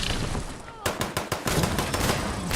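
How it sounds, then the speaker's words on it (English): Rapid gunfire bursts in Fallout 76, a harpoon gun firing in a quick series of sharp cracks over a busy, noisy game background, with a voice talking at times. "What the hell is he shooting? A harpoon gun?"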